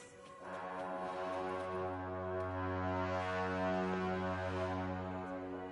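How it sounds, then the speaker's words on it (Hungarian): Bagpipe players in the video game Wuthering Waves, a sustained droning chord with steady held pipe tones that swell slightly and hold for several seconds, moderately loud with no talk. "Jók ezek a dudások."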